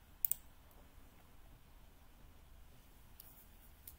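Computer mouse clicks while opening a folder in PyCharm, two quick faint clicks near the start and another soft pair near the end in a quiet room.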